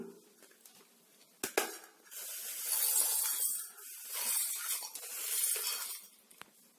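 Roasted garam masala spices ground in a kitchen mixer grinder, a loud whirring hiss rising in several bursts after a couple of sharp clicks, with brief pauses between runs.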